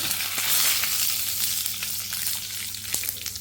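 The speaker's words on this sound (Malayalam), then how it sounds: "ഇതിലേക്ക് നമുക്ക് ലേശം കറിവേപ്പിലയും വറ്റൽമുളകും ഇട്ട് കൊടുക്കാം." Mustard seeds, curry leaves and dried red chilies fry in hot oil for a chutney tempering, giving a steady close sizzle with scattered crackles and pops throughout, no voices.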